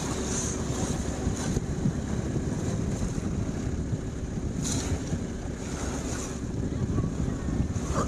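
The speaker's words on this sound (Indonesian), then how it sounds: "angin tuh semakin kencang" Strong wind gusts over Lake Maninjau in West Sumatra, a steady loud roar buffeting the microphone with faint water and boat-like wash underneath, no voices.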